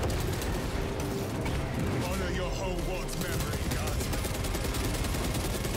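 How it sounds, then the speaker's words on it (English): A minigun fires in Warhammer 40K: Space Marine 2, a dense, continuous rattling roar that runs loud and unbroken through the whole stretch amid chaotic battle noise. "I didn't realize I had the minigun and this gun"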